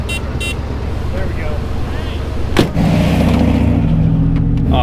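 A wrecker tow truck starting off, its engine settling into a steady mid-pitched drone with a brief rev after a door clunk, while people talk inside the cab.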